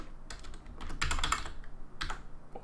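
Typing on a computer keyboard during an Unreal Engine 4 coding session, with scattered bursts of close, crisp keystrokes separated by short pauses.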